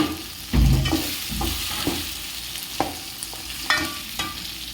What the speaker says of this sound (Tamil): அடுத்தது நம்ம சிக்கனை கொட்டி நல்லா கிளறி விடணும்